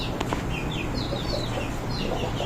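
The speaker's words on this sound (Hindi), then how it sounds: "जल्द से भी मुर्गियाँ बन जाएंगी और फिर अंडे वगैरह देंगे ये" Young chickens clucking and chirping in a backyard pen, with short high calls scattered over steady low background noise, no speech.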